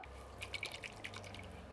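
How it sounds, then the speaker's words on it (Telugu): Water sloshes inside a medium-ripe coconut, neither too mature nor too tender, as it is shaken: a brief, faint series of soft liquid splashes and drips close by, with no talking. "నీళ్ళు ఇట్లా ఆడే సౌండ్ కానీ వచ్చిందంటే మీడియం టెంకాయ తీసుకున్నామండి"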